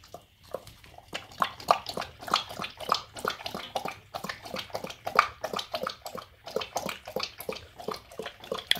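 Dog Didi laps water from a bowl with a quick, steady rhythm of close, wet slurps that runs throughout, with no talk over it.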